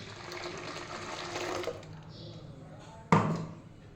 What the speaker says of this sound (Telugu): ఇక్కడ వరకు ఉండే ఆలు పేస్ట్ ఇప్పుడు అంతే వాటర్ పోసేసుకోవాలి.